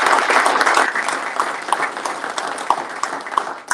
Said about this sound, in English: Round of applause for our panelists